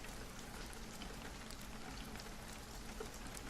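Soft, steady rain plays alone as a continuous, even patter of drops with no voices, gentle and unchanging throughout.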